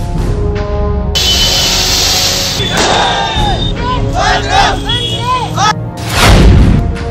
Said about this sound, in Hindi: सड़कों पर गुलाल के साथ आतिशबाजी।